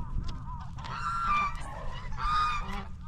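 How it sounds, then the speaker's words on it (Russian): A wild goose that stayed for the summer honks twice, loud nasal calls close by over a low background rumble, with no talking. "у нас дикий гусь остался с весны, с нашим летом"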